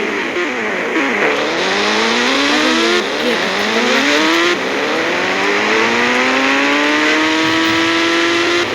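A car in a video game drifts at high speed, its engine revving steadily with smoothly rising and falling pitch; any tire squeal stays faint under the loud engine. The sound is continuous and close, with no talking.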